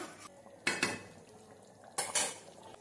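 Kadai chicken curry in a pot is stirred, with two distinct metallic scraping clanks of a spoon against the pot, separated by a quiet pause over a faint low cooking hiss.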